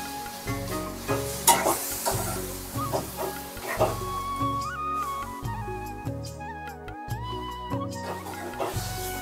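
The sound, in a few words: moori fish sautéed in masala in a pan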